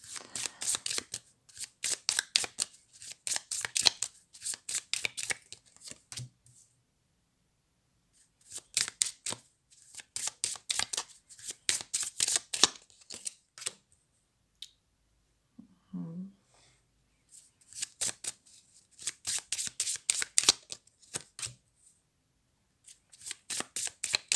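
Heal Yourself oracle cards are shuffled close up in repeated rapid riffling bursts with quiet gaps between them, and a brief soft sound in one pause.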